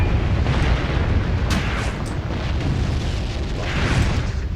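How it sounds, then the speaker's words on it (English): Tank struck by a shell in a WWII tank warfare game set at Faid Pass, Tunisia, 1943: a loud, rumbling explosion with sustained roaring blast noise that fills the whole stretch, with a few sharper pops near the start. "Oh, my tank got hit there."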